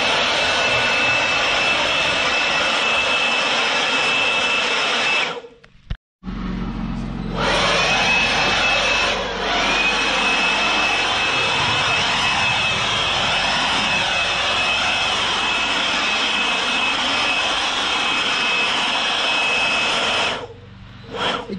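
A DEWALT DCE100 20V cordless leaf blower running at a steady high-pitched whine, loud and close, cutting out briefly near six seconds and dipping again near twenty seconds before resuming.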